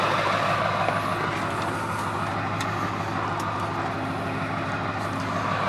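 A truck idles and pulls a 1964 Oldsmobile Cutlass, its engine a steady loud rumble with a constant low drone that holds without pause.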